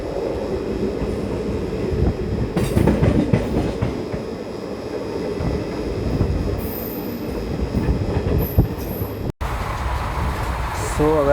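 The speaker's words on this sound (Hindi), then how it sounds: "और स्टिल ये ICF कोचेस के साथ रन कर रही है नरसापुर नागरसोल सुपरफास्ट एक्सप्रेस।" The Narsapur–Nagarsol Superfast Express with ICF coaches runs along, heard from on board as a steady loud rumble with rhythmic clickety-clack of wheels over rail joints and brief squeals, continuing throughout.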